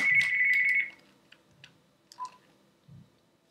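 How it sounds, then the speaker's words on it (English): Phone going off during kitchen food prep: a bright electronic tone about a second long, followed by a few faint beeps and light clicks in a quiet room. "Oh, that's my phone."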